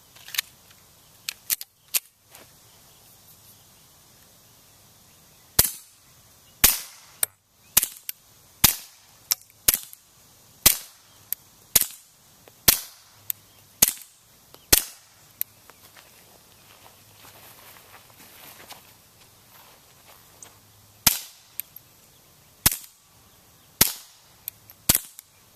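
Walther 22 pistols fitted with a Silencerco Octane suppressor fire Remington subsonic rounds as a long series of sharp, close, clipped shots. The shots come in irregular strings with short pauses, and the quiet between them carries faint background noise.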